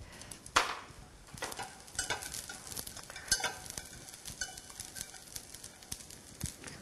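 Small anchovies being stir-fried in a pan over low heat, a faint, steady sizzle with irregular scraping and stirring clicks from a utensil against the pan.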